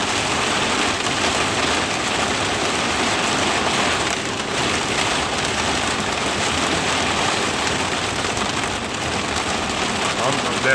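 Steady rain falling outside during a monsoon downpour, a dense continuous hiss that fills the whole span at even loudness, with a faint engine-like hum underneath.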